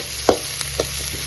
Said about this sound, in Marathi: सो कांदो आनी टमाट बरो जाला ओके फ्राय.